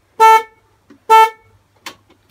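A repaired Honda Activa 4G scooter horn, fixed after a loose wire was reconnected, gives two short loud honks about a second apart, close and clear, followed by faint clicks and a brief softer beep.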